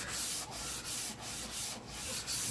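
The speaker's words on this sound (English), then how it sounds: "we will go over it with this sandpaper one more time to sand down the raised grain" Sandpaper rubbed back and forth over the wooden body of a J Bass to knock down raised grain, producing a loud, close, rasping scrape in quick regular strokes with short pauses between passes.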